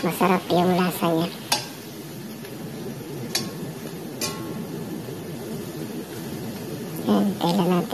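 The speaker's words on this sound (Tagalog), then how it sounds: "i-prito mo ng konti yung karne" Sliced pork frying in a pan and being stirred for a sautéed bottle gourd dish in a home kitchen, a steady sizzle under the clatter of a utensil against the pan, with someone talking at the start and end.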